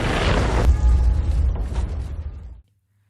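A huge explosion in an action film roars loud and sustained for over two seconds, a dense rumbling blast with crackling debris, then cuts off abruptly to near silence.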